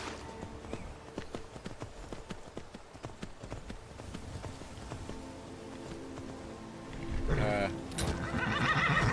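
A horse neighs loudly near the end, with close hoofbeats clopping steadily beforehand, in the Skyrim video game.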